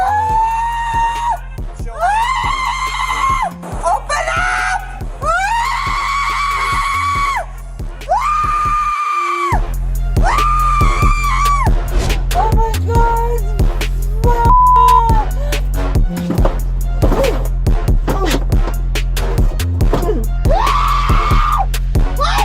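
A woman screams at the top of her lungs during an arrest by officers, with long piercing shrieks repeated one after another, loud and close, broken by a brief pause and some shouted words.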